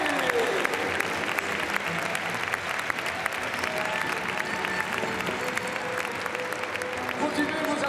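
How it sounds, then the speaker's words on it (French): A crowd of spectators at a show jumping event applauds continuously, a dense, steady wash of clapping with crowd murmur mixed in and no clear break. "Continuez vos applaudissements, mesdames et messieurs"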